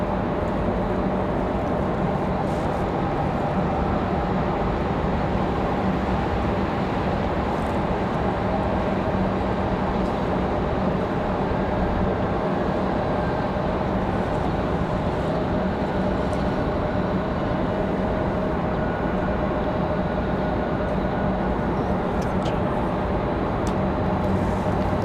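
A Boeing 777-200ER airliner at Raleigh-Durham airport gives off a steady, broad engine roar with a low rumble that holds at an even level for the whole stretch, with no voices.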